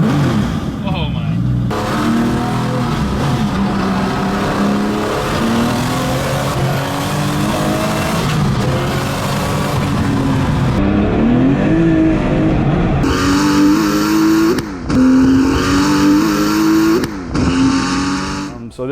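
Porsche 993 Turbo GT2 EVO, a 2600 lb street-legal build, roars through hard street pulls, its engine revving loud and close with rising sweeps and sharp gear-change breaks, voices talking over it.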